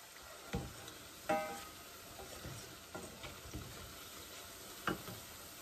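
Falafel frying in hot oil for a batch to serve with pita bread, a steady soft sizzle with occasional louder pops and stirring clinks, heard alone at moderate distance.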